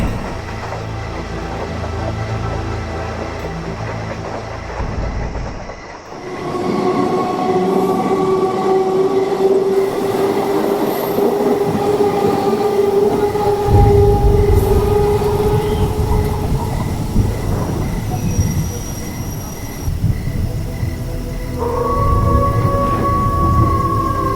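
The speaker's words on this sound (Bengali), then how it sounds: "ট্রেনটা স্টেশনে থামতেই" A train rumbles along steadily with rising and falling metallic brake squeals and tones, slowing toward a halt at a station in a horror cartoon story; the sound is loud and continuous, with no voices.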